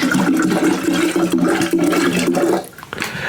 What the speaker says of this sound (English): I think I'm gonna just go one more bottle of water